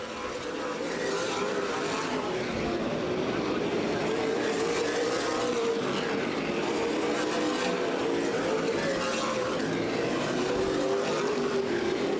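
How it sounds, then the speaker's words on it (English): CRA Super Series cars lapping Anderson Speedway during the 2010 Redbud 300 make a continuous, fairly distant engine drone with swelling passes, and an announcer's voice sits faintly beneath. "Chase Elliott now completing lap number 49"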